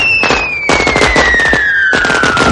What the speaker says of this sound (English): lighting a match, and setting off a series of explosions